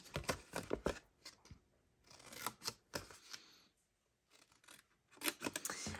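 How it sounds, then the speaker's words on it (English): Scissors snip paper score lines on the short side of a card, crisp close cuts in irregular bursts with short pauses between. "Snip these score lines on the short side."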